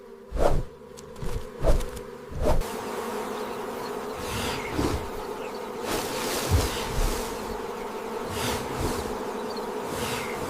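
Bees defending their hive buzz in a dense swarm, with loud close passes sweeping by the ear over a constant humming drone.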